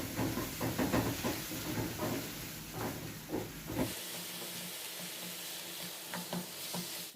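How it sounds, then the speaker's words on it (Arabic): Onion sautéing in oil with spices for chicken, a steady close sizzle and hiss with faint stirring, heard alone without talk. "عندي البصله غنشحرها مزيان مع الزيت ومليحه والبزار باش ندير الدجاج"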